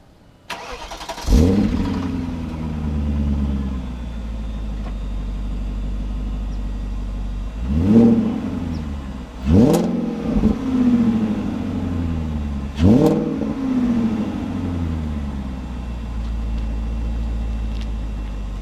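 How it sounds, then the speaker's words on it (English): A 2000 BMW E39 540i V8 fires up from cold with a sharp starter catch and settles into a high idle, followed by three quick throttle blips spaced several seconds apart, loud and close with no voices. "Oh, cold start. 2000 540i."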